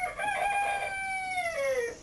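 A rooster crows once nearby, a long drawn-out call that falls in pitch at the end, heard alone without talk.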